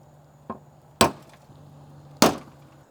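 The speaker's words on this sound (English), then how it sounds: "I've got a center punch, and I'm going to try to very lightly center punch this hole" A center punch is tapped lightly against a metal 4th gen 4Runner truck body, giving two sharp metallic strikes after a softer tap, each decaying quickly in a quiet setting.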